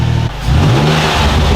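An Infiniti G35 with a cat-back exhaust revs hard and close, dipping briefly and then climbing into a loud, sustained high-rpm roar.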